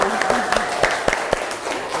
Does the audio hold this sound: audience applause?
yes